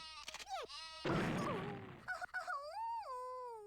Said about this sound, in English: I like the use of the sheep.